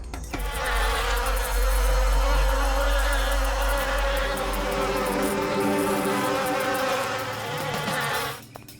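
A dense, continuous swarm of bees drones around a hive, the loud buzzing holding steady for several seconds before cutting off, with no voices over it.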